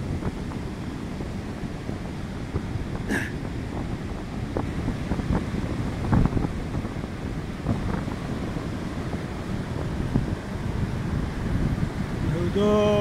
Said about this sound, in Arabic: الصوت ديال المواج داك الشي زوين